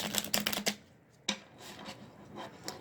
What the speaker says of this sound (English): I like to shuffle pretty thoroughly.